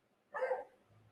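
A single dog bark, short and fairly faint, standing alone in an otherwise quiet room.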